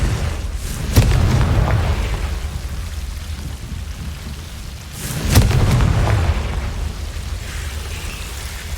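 Booming blasts from the Confringo explosion spell in the video game Hogwarts Legacy, two loud deep bursts a few seconds apart, each trailing a long rumbling, crackling roar over a constant rain-like background hiss.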